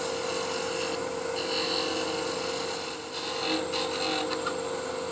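A woodturning tool glides across salvaged wood spinning on a lathe, giving a steady scraping rasp over the machine's constant hum, moderately loud and without voices.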